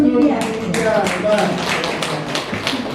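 Applause for a teacher in a classroom discussion session: a few scattered claps from a small group, close and uneven, after a brief voice at the start.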